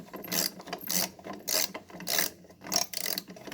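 Ratchet wrench loosening the top bolt on a hydraulic line of a John Deere 4110 compact tractor, heard as several bursts of rapid clicking, each lasting about half a second, with brief pauses between them, close and clear.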